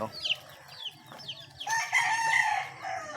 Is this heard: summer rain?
no